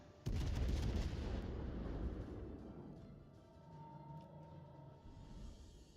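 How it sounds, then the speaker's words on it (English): Naval secondary guns fire in the World of Warships Legends video game, a loud booming blast that rolls into a dense, rumbling barrage and slowly fades under quieter game sounds, with no talking. "the Schliffen from Bravo, he just keeps firing the secondaries"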